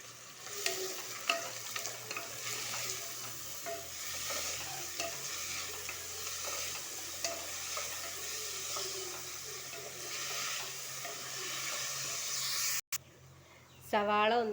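Sliced onions with a little salt sizzle steadily in a hot pan as a spoon stirs and scrapes through them, with intermittent clinks over the constant frying hiss; the sound cuts out briefly near the end.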